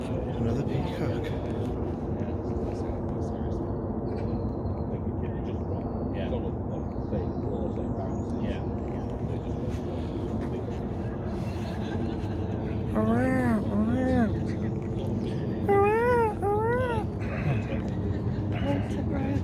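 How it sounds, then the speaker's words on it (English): Distant peacock calls ring out twice in loud, wailing bursts late on at Warwick Castle, over people talking and a continuous low background rumble. "Another peacock."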